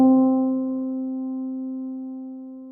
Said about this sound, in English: A good sounding piano sound.